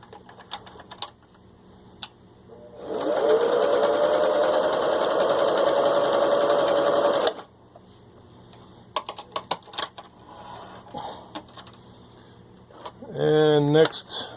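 A vintage 1970s Singer 353 Genie zig-zag sewing machine runs a blind stitch in one steady whirring burst of about four seconds, framed by clicks and handling noises, with a short voice near the end.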